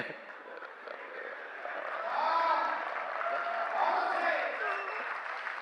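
An audience claps at a Hindi comedy poetry show, a steady, rolling wash of applause that swells in the middle and stays fairly loud throughout, with voices mixed in.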